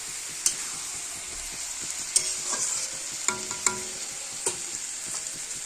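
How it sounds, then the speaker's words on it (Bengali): Turmeric and salt fry in a pan, giving a soft, steady sizzle broken by several sharp scrapes and clinks as the mixture is stirred, with no voices. "চলো এখন এটা একটু ভাজা হবে,"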